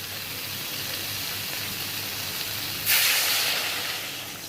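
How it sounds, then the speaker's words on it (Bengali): Water is poured into a hot pan of eggplant fried with spices and green chillies, setting off a sudden loud hiss that then slowly fades. "এবার জল ঢেলে দেবো।"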